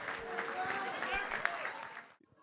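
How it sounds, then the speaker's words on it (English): Guests clapping at a wedding reception, brief applause mixed with chatter and voices that cuts off abruptly after about two seconds. "how about a big round of applause right now for Zach?"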